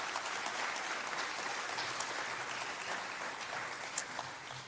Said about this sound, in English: Let's give our candidates another round of applause for being here tonight.